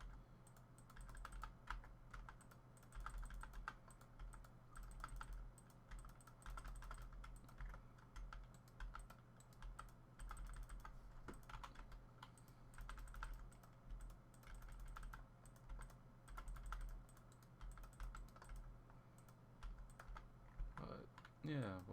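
Steady rapid keyboard typing on hotkeys while a tower defense game plays, quiet clicks running continuously over a low hum, with a brief louder flurry near the end.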